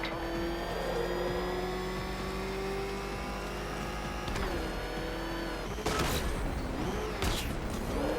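A ramshackle car motor in the Batman Arkham video game runs steadily with a rising mechanical drone and whine, joined later by louder clattering bursts, with no talking.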